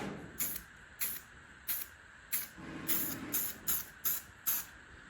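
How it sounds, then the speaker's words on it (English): Repeated short hissing bursts of a spray can or spray gun coating a guitar headstock at a paint table, about nine evenly spaced blasts, close and fairly loud against a quiet room. "So we're going to go ahead and spray this headstock down a little bit."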